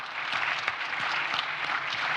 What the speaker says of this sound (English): A round of applause for Zambia